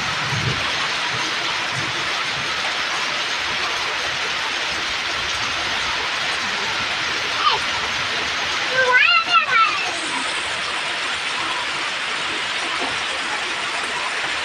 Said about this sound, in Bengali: বৃষ্টিটা কত জোরে হয়েছে, আমাদের বাড়ির সামনেটা পুরো বৃষ্টিতে যেন ভরে গেছে